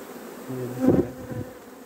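Honeybees buzz around an open hive frame holding brood, a steady close insect drone that swells briefly in the middle of the moment.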